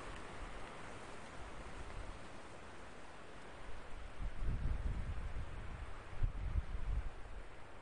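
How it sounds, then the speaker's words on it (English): Wind rushes through trees on a windy UK day in a steady broadband hiss, swelling into stronger gusts midway with low rumbling buffets. "sorry about the noise of the trees"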